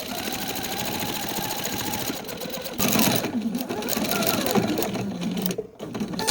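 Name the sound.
sewing machine stitching around a quilt edge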